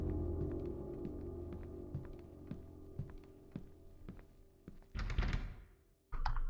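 Repeated dull thuds and rattles of a locked door being tried in a hospital-set video game, several soft knocks in a row, then a louder burst of rattling, a brief silence, and another burst.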